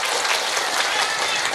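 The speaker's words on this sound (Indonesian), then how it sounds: "Ya tepuk tangan sekali lagi" A community gathering of Muslim women in Indramayu claps together, a dense, even wash of applause from a sizeable crowd, close and sustained throughout.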